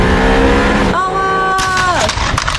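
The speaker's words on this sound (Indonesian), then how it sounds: "di sini ada mobil McQueen yang melaju sangat cepat teman-teman" A toy Lightning McQueen race car zooms past: a loud, buzzy engine whine holds steady, then swoops sharply down in pitch as it goes by.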